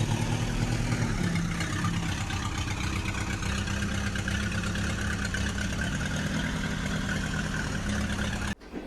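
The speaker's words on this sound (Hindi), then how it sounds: "ये है ट्रैक्टर। ट्रैक्टर को हिंदी में भी ट्रैक्टर ही कहते हैं।" A tractor engine runs with a steady, dense mechanical drone that holds constant and fairly loud throughout, then cuts off abruptly at the very end.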